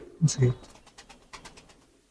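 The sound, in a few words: pigeons in a loft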